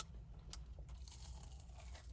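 Quiet, close crunching of someone biting into a McDonald's breakfast sandwich on an English muffin, with a couple of sharp crisp bites over a low steady background hum.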